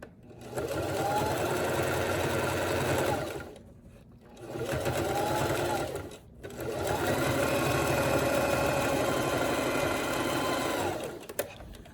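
Sewing machine running close by as it stitches a fold of fabric into fringe, in three long steady bursts separated by brief pauses.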